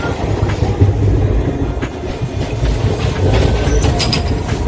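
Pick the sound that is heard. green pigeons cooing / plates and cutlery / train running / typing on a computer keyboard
train running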